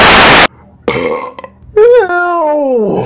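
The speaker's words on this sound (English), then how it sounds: "like you never heard a motherfucker burp out loud before" A single loud, long, drawn-out human burp rings out after a brief burst of noise, croaking and wavering in pitch before it trails off.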